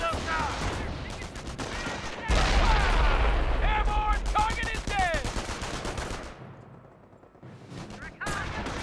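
Battle gunfire in Company of Heroes, with rapid machine-gun bursts and rifle cracks rattling over a low rumble of explosions as German forces pound a forward emplacement, near and dense, easing briefly before resuming.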